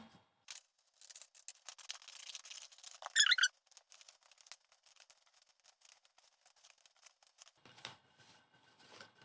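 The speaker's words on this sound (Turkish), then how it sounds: "Bunu da tekrar ortadan ikiye bölüyorum. Tekrar kesiyorum." Scissors cut a sheet of paper in half for a preschool paper sheep craft, giving faint, close snips with a brief squeaky scrape near the middle in an otherwise quiet room.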